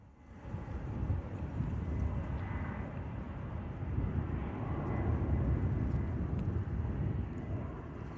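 An airliner departs Bristol Airport in a gusty crosswind, a low broad engine roar that swells and holds steadily at a distance, mixed with wind buffeting on the microphone.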